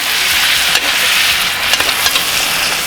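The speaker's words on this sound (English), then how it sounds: "Now we're just going to tilt the pan like this and start to baste. Get some of that garlic up on the steak." Steak searing loudly in a hot pan while being basted with butter and garlic, a constant close crackling sizzle with the occasional scrape and spoon clink, no voices.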